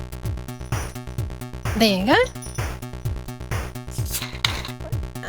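Chiptune music pattern coded in C for the WASM-4 fantasy console: bouncy looping square-wave notes in a steady pulsing rhythm with a quick warbling pitch sweep, moderately quiet, with a voice speaking briefly over it.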